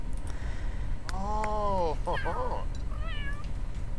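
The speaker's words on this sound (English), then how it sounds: "look at the kitty!" A cat in The Sims 3: Pets meows several times over steady game background sound, the calls rising and falling, loudest in the middle.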